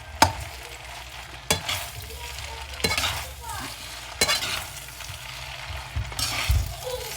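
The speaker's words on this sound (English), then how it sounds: "I'm going to mix it all together so my eggs actually cook with the noodles" Egg noodles with mixed-in egg being stir-fried for mee goreng in a hot pan: a steady sizzle runs throughout, broken by five sharp scraping stirs of the spatula at regular intervals, close and fairly loud, with no talking.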